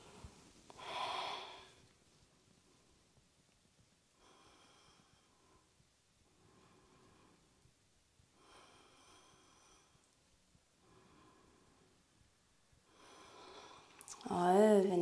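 Slow, soft breaths are taken and released during a yoga pose, several faint exhalations spaced a few seconds apart, with a louder breath near the start and a voice near the end.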